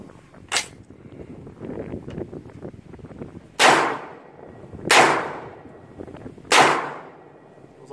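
Gunfire striking a Battle Steel Level IV 10x12 shooter's cut ballistic plate, four loud, sharp shots with a metallic clang, one early and three more spaced a second or two apart, with faint background noise between.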